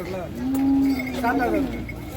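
A bull moos loudly and close by at a cattle market, one long drawn-out low call that bends in pitch near the end, with no talking around it.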